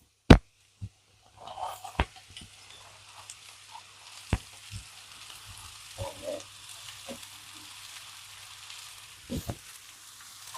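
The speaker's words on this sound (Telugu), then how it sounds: "ఇప్పుడు ఇందులో బీరకాయ ముక్కలు వేసేసుకుందాం" Ridge gourd pieces hitting hot oil seasoned with red chili powder, frying with a steady soft sizzle broken by a few sharp clinks and stirring scrapes, close by with no talk.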